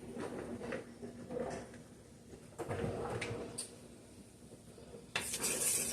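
Flour is stirred into a tomato and broccoli pasta sauce in a pan, giving soft, quiet scraping and light clinks of a spoon against the metal, with a faint sizzle underneath.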